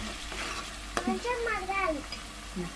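Onions lightly salted and frying in a pan for a Telugu radish-leaf and chana dal curry, a soft sizzle with scraping stirring strokes, close and fairly quiet; a voice is briefly heard.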